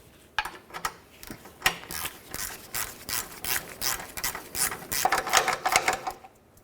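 Rapid ratchet clicking in short bursts as new nuts are snugged down on the exhaust manifold of a 2006-2012 Ford Fusion, close and fairly loud, with metallic rubbing between strokes and no talk.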